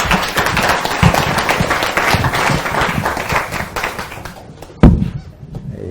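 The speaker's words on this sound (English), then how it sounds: "Give him a round of applause." A live audience at a hypnosis demonstration claps steadily for a volunteer, a dense round of applause that fades out near the end with one sharp knock.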